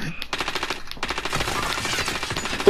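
Rapid automatic gunfire in the video game Call of Duty: Warzone, a dense, continuous rattle of bursts firing close and loud, with a voice briefly audible near the start.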